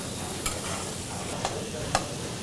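Thinly sliced onions fry in a pan for Ankapur chicken curry, a steady sizzle broken by three distinct scraping stir strokes; nobody speaks.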